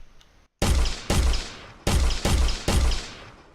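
A weapon fires in an Unreal Engine 4 game, giving five loud, booming gunshots at uneven intervals, each decaying quickly, after a faint lead-in and a brief silence.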